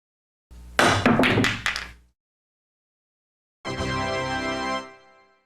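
A pool jump shot, with the elevated cue striking the cue ball to hop it over another ball, gives a short cluster of sharp knocks and a thunk, followed after a pause by a longer sustained tonal ring.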